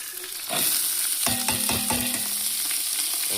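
Curry leaves hit hot oil and burst into a loud, crackling sizzle about half a second in, with several sharp spatters, then settle into a steady fry that continues to the end.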